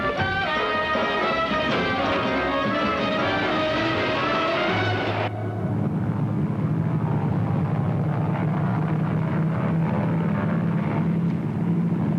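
An airplane's engine drones loud and steady, taking over after a stretch of dramatic orchestral music and holding a constant low roar to the end.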